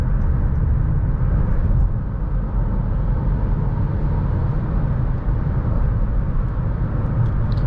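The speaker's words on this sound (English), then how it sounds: "A little bit of wind noise" Steady wind and road noise inside a 2020 Acura MDX cruising on the highway, a continuous low rumble with a soft airy hiss, even and unbroken throughout.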